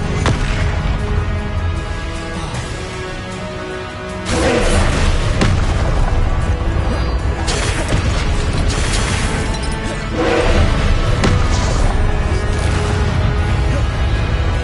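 Repeated explosive spell blasts from Confringo in Hogwarts Legacy, heavy booming impacts and crashes erupting over a dense, loud battle din, with sharper bursts at intervals.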